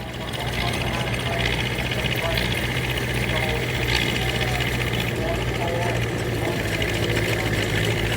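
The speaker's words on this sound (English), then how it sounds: "And here comes the 1969 Artisans tractor. Another complete different sound in this tractor here." A 1969 Artisans tractor engine runs at the Trim Haymaking Festival, a steady, loud, low mechanical drone with an even chug throughout.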